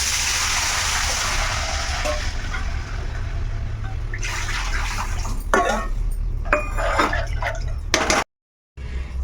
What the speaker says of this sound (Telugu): ఆ గిన్నెతో 2 గిన్నెలు వాటర్ అయితే వేస్తున్నాను